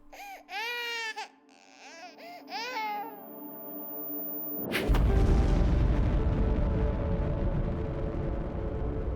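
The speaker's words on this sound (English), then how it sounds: "And then an explosion happened." In The Bunker video game, a newborn's cries give way to a sudden loud boom of an explosion, followed by a sustained heavy rumble that fills the rest of the scene.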